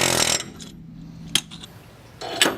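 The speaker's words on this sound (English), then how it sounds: "put the air hammer inside, lean into it, and just let it go" Two short sharp mechanical bursts of an air hammer driving a wheel stud, separated by quieter stretches, with a longer rattling burst at the end.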